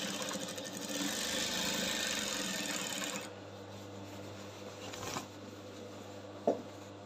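Sewing machine stitching an embroidered bubu kaftan, running steadily for about three seconds, then dropping to a low hum with a couple of soft knocks and handling noises.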